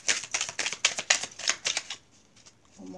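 Tarot cards shuffled up close in a rapid series of crisp riffling flicks that trail off into quiet, with a faint voice beginning at the end.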